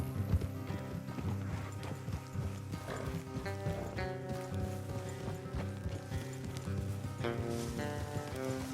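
Rapid, rhythmic hoofbeats of horses galloping in the video game Red Dead Redemption 2 continue throughout, close and steady, over a low musical drone.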